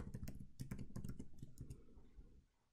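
Rapid keystrokes on a computer keyboard, a dense run of close, crisp clicks for about two seconds before trailing off into quiet.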